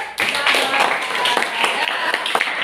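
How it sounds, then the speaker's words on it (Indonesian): A classroom audience claps after a student's poetry reflection at a teaching performance exam, a dense, steady patter of many hands from start to finish, fairly close and loud, with some voices mixed in. "Oke, tepuk tangan buat."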